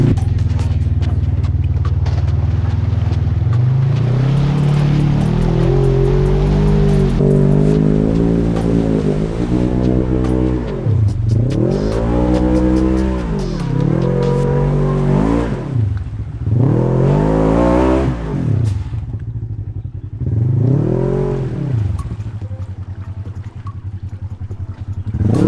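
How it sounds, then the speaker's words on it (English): An off-road vehicle engine revs hard while stuck in mud on Drummond Island, with a loud sustained drone and repeated rising and falling rev swells close by. "put it in neutral and rev bomb it"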